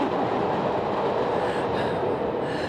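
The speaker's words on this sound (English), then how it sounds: "here comes the train again." A train rolls past nearby, a loud, steady rumble of rail cars with broadband clatter filling the whole stretch.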